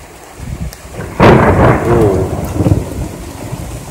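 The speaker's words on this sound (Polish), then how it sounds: "Z zachodu przyszła burza." Thunder rumbles and cracks loudly over steady heavy rain during a strong summer storm over Łowicz, Poland, with a sudden close boom and downpour continuing afterward.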